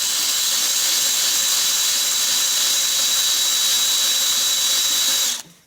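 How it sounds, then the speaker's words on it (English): A power drill drilling out a broken bolt whines steadily at a high pitch for several seconds, loud and close, then cuts off abruptly at the end. "Hopefully it's drilling out."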